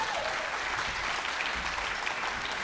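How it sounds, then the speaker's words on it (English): An audience at a Robla school district concert claps in a warm, continuous round of applause, a dense wash of many hands at a steady level. "So big round of applause for him"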